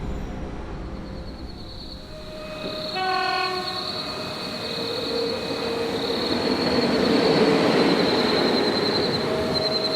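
A train rumbles along the rails and sounds a long horn blast partway through, the rolling noise growing louder toward the end, with no voices.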